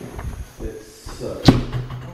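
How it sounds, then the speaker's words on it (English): A door in an old, partly broken mansion is pushed shut, giving one sharp thud midway after softer shuffling knocks, with a person sighing around it. "We're just trying to shut the door."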